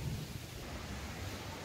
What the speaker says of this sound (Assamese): এনেকুৱা মিহি মিহিকৈ বতাহটো দি থাকিলে ভাল লাগে